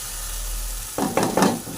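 A water spinach mixture for a mashed bhorta is sautéed in a pan: a soft background hiss, then three quick, close stirring scrapes with sizzling in a short burst.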